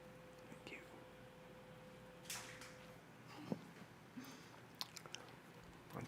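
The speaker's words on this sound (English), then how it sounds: "I'm chewing into the microphone." Bread with poppy seeds being chewed right into a microphone, giving close, wet, irregular crunching and mouth noises under a steady hiss, with soft whispery sounds mixed in.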